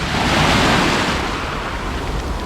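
Sea waves on a sunny Mediterranean beach between Genoa and Menton wash in as a steady, loud roar of surf, with a continuous broadband rush and some wind buffeting on the microphone.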